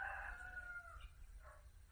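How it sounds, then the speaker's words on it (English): A rooster crows once, its drawn-out call fading over a low rumbling background, fairly distant and quiet. "yeah, good morning, Rooster"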